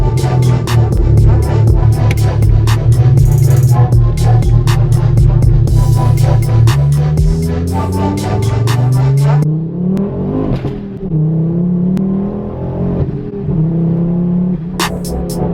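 A Ford Focus RS Mk2 accelerating hard on a main road, its engine revving loud and close through rising gears, with a brief lift and drop in pitch around a shift before climbing again.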